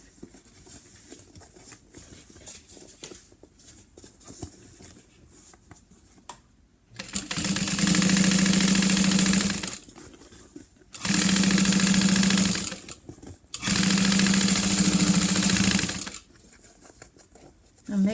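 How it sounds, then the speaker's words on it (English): Back stitching on a sewing machine: three loud, steady bursts of rapid needle whirring, each a few seconds long, separated by short pauses with quiet handling noises between them. "I'm going to do a little back stitch here because I moved that without the needle down."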